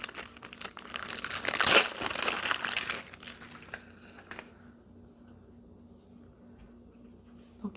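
Plastic wrapping on a Lorcana Amber/Amethyst starter deck crinkles and tears loudly for about three seconds up close, then fades to quiet rustling and near silence.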